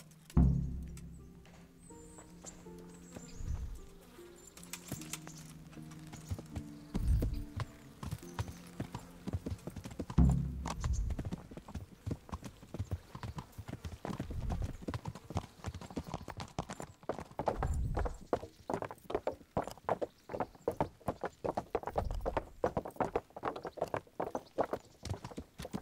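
Horse hooves clip-clop steadily in the medieval open-world game Kingdom Come: Deliverance, a close, rhythmic trot of sharp hoof strikes that runs through most of the stretch over faint background music, with no talking.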